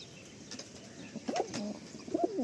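Madrasi pigeons, a male and female pair kept for sale, give soft low coos in two short bursts late in the clip over a faint, steady background hiss.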